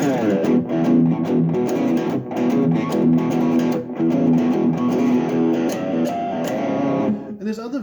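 Blues riff played on an acoustic guitar, a steady run of picked notes and bends sustained throughout, close and fairly loud, ending with a brief trailing-off at the end.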